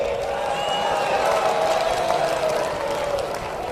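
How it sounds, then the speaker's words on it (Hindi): A large outdoor political rally crowd in Panipat, Haryana, clapping and cheering in a dense, steady roar that holds loud throughout and eases slightly at the end. "ताली बजा रहे हो भैया?"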